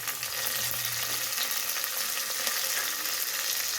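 Cumin seeds and curry leaves sizzling in hot oil for a sambar, a steady close crackle and hiss with no talking.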